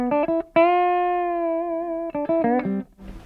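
An electric guitar played straight into an amp with no reverb, delay or other effects: a short lick, one long sustained note ringing for over a second, then another quick run cut off cleanly, with no voices.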